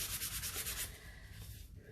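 Close, quiet rhythmic rasping as epoxy is sanded along the rim of a tumbler, strokes brisk and even at first, then lighter and softer.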